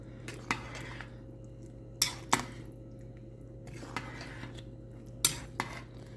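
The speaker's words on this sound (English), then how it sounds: "So I'm adding the rest of the sausage. And I'm gonna mix this into it." Spoon stirring sausage into a pot of homemade gumbo, with scattered metallic clinks and scrapes against the pot over a steady low hum, close and irregular.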